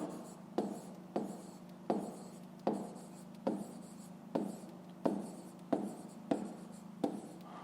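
Handwriting on paper while working a fifth-grade math exercise, a series of about ten scratchy pen strokes in a steady rhythm, close and quiet, with no talking.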